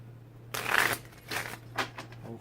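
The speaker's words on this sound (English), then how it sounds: "let's get a couple more shuffles in here" Several short riffling, papery bursts of tarot cards being shuffled by hand, close and fairly quiet over a low steady hum.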